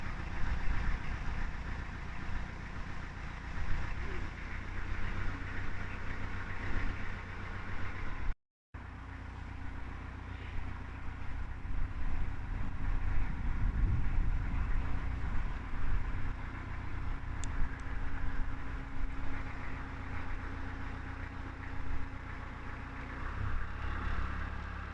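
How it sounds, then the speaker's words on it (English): Small canal boat's engine idles in a steady low chug while gliding through a narrow canal, a continuous close, moderately loud drone with no talking. "And this is the tiniest boat I've seen"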